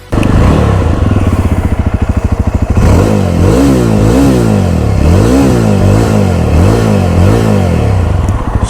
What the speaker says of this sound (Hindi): So let's start this bike.